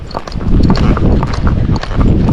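Barefoot horse hooves clip-clopping at a steady walk over roadside gravel, close and fairly loud, with a rider's voice talking over much of the footfalls.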